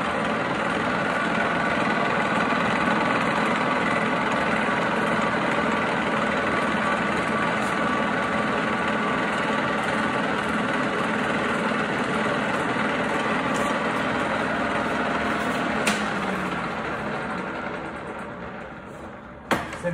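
A 21-inch Cincinnati Bickford Model 1L single spindle drill running on power feed, a steady loud mechanical hum and drone that holds for a long stretch, then winds down near the end with a couple of short knocks.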